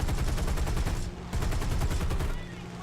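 Rapid bursts of aircraft cannon fire from an XP-38G in the War Thunder flight game, loud and close, in two long stuttering volleys separated by a brief pause, with a steady engine drone underneath.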